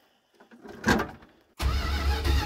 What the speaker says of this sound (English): Hey, it cranks over. Typical Dodge starter sound.